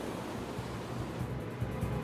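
Ocean waves crash against rocks far out at sea, a dense continuous roar of surf with no distinct breaks, steady and moderately loud.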